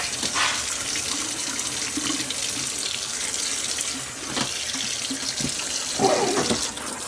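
Tap water streams steadily over tie-dyed fabric still bound in folds, a continuous close splashing rush with small shifts in flow as the cloth is turned under the faucet.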